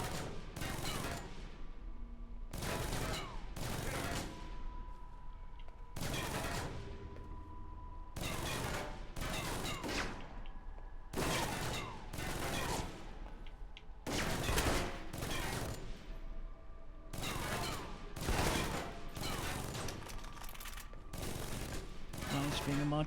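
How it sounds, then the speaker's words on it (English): Repeated bursts of gunfire in the stealth action RPG Alpha Protocol, loud volleys recurring every few seconds against a steady game background. "What the hell are you shooting at?"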